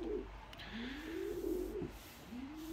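Turtle doves and ornamental pigeons in a loft give repeated soft, low cooing calls with a steady rhythm, faint and close, over a quiet background.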